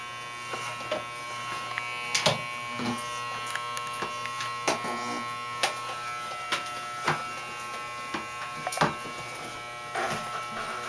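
An electric toothbrush buzzes in a steady, close drone for about eleven seconds, with small clicks and knocks as it moves against teeth; no one speaks.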